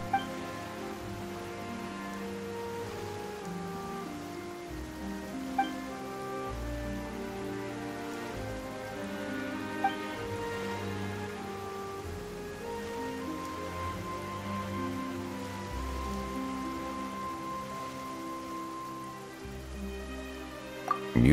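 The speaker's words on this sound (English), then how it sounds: "Why is it raining all of a sudden?" Steady rainfall in the video game Genshin Impact, at Fortress of Meropide, patters on a surface alongside a sustained musical backdrop, with no voices, running evenly throughout.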